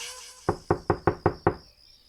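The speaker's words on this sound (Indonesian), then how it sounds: "ku dengar lagi suara ketukan pintu" Six firm, evenly spaced knocks strike a bedroom door at night, close and distinct against a quiet background with a faint steady high tone.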